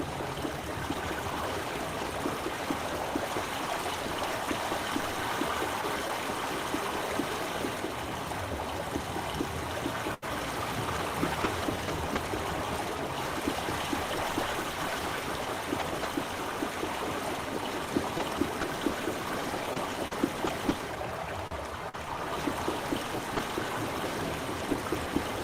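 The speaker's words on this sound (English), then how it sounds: "there's water going in to there" Steady flowing water runs through the whole stretch in Myst, a close, even stream-like rush with no breaks and no talk over it.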